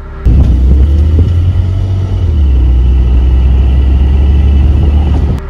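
A 2023 Porsche 718 Boxster GTS 4.0 with a warmed-up engine that sounds faulty, droning as a loud, steady low rumble heard up close with a slight dip in pitch partway through.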